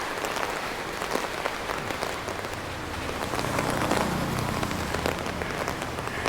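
Rain pours steadily onto a city street in Chiang Mai during the rainy season, a dense even hiss of drops with scattered sharper splashes throughout, no voices.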